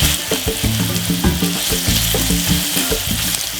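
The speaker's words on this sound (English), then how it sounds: "Immediately I'm gonna add the oil. I can also add the bay leaves." Bay leaves sizzle loudly in hot oil in a pot while white rice is being prepared, giving a steady, close, continuous crackling fry with no talking.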